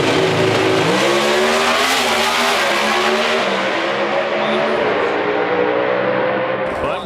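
Drag racing cars at Las Vegas Speedway accelerating hard, a loud, sustained engine roar with rising pitch sweeps as the cars pull away, continuous and close throughout.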